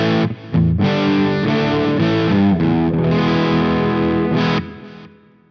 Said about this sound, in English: I just like this as just like a basic overdrive sort of sound.